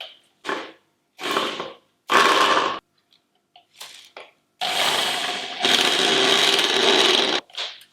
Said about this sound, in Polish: No i zmieniam teraz szybko na wkrętarkę.